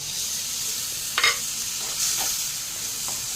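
Prawn gravy with a piece of kudampuli (Malabar tamarind) and its soaking water sizzles softly in a pan, with a steady faint hiss and a few brief scraping stirs near the middle.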